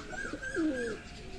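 A single soft pigeon coo sounds close by in a pigeon loft, a short rolling call lasting about a second over quiet background.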